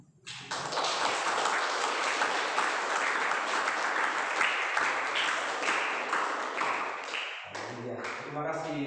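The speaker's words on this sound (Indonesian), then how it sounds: "Sekali berikan tepuk tangan buat Tuhan ini." A church congregation bursts into applause during a service, a loud dense wash of clapping that swells quickly and holds steady before tapering off as a voice begins speaking near the end.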